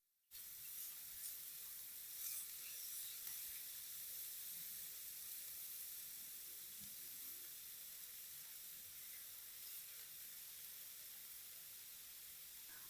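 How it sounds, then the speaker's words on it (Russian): About 300 grams of finely chopped onion gently frying in a little vegetable oil, a steady soft sizzle and hiss that holds evenly throughout, faint and with no voices. "На небольшом количестве растительного масла слегка обжариваю 300 граммов мелко нарезанного лука"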